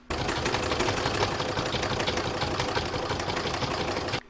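Sewing machine stitching rounds of quilting on a single-fabric Christmas star, a fast, steady, close rattling hum that runs continuously and stops abruptly at the end.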